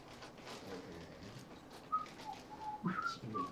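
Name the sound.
person whistling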